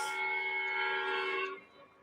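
A 1225 Polar Express model train engine on a layout sounds a steady, multi-tone whistle that holds for about a second and a half, then drops to a quieter fading tail.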